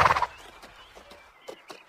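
A horse gives a short, bright neigh at the start, then quieter snorting and faint hoof shuffles follow at a moderate distance.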